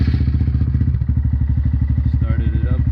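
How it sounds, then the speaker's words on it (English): A Honda Grom motorcycle engine runs at a steady idle during an oil flush, a loud, close, rapid regular thumping putter that continues unchanged throughout. "I'm gonna start it up."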